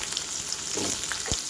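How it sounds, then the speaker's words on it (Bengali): Pointed gourd pieces fry in hot oil tempered with dried red chilli and bay leaf, a steady close sizzle and crackle with a few sharper pops and a brief stirring scrape, no voices. "পটলটা একটু ভাজা ভাজা করে"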